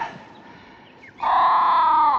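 A crow gives one loud, harsh, drawn-out caw after a quieter faint call at the start, close and clear with no talk over it.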